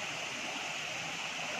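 Water pours steadily down the Dudhdhara waterfall at Amarkantak, a faint, continuous broadband rush and hiss without pauses, heard from some distance.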